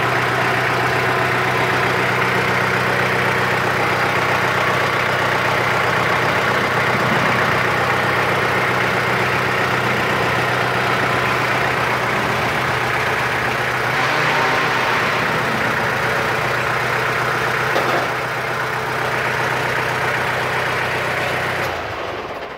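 A Kubota L2802DT tractor engine idles with a steady, even drone and low hum, close and continuous, with a few faint clanks over it.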